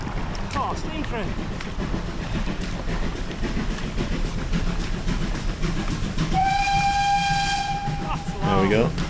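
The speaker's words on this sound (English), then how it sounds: "when the steam train starts to come past, there will be, it whistles right next to me and it's really loud" Steam train rumbling past close by along a canal near Llangollen, its clattering wheels building to a loud, sustained whistle blast right alongside, with voices talking over the rumble.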